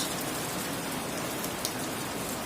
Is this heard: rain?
yes